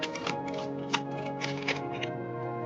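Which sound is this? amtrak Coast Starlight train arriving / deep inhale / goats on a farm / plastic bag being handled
plastic bag being handled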